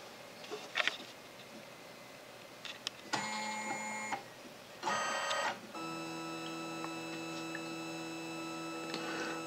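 A film scanner runs a scan at 1200 dots per inch, giving a few short mechanical whirs before settling into a long, steady motor drone with bright tonal whine, close and fairly quiet, with no talking.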